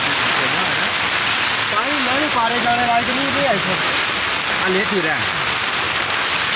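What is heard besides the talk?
heavy rain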